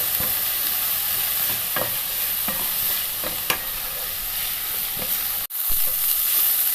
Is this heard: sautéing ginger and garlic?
yes